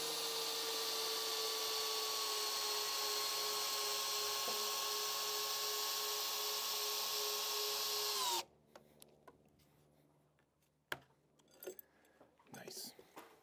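A power drill drives large GRK structural screws into porch framing without pre-drilling. It gives a loud, steady, high whine for about eight seconds, then cuts off, leaving faint clicks and handling noises.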